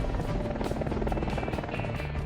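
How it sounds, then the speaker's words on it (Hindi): Apache AH-64E attack helicopter flying, a continuous loud rotor and turbine roar with steady pulsing blade chop throughout, no voices over it. "अपाचे AH-64E दुनिया का सबसे advanced multi role combat helicopter"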